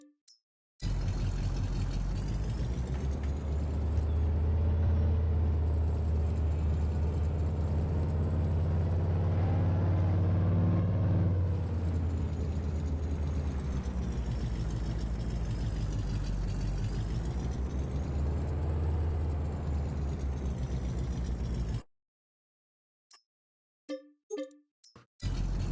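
Truck engine idling steadily in Farming Simulator 22 during a canola harvest, a low continuous drone for about twenty seconds before it shuts off, followed by a few faint clicks.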